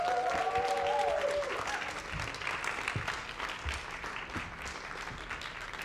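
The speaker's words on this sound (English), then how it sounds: "let's give all of our artists a round of applause" Audience applause for opera cast and creatives at a live talk event, a broad, sustained patter of clapping that starts fullest with a brief tonal sound and gradually eases while continuing.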